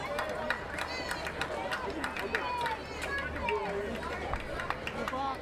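Crowd at a Cape Cod League playoff baseball game between the Cotuit Kettleers and Bourne Braves, murmuring and cheering with scattered voices and whistles, under steady commentator speech.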